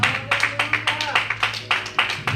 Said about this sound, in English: let's give Yahweh a hand clap of praise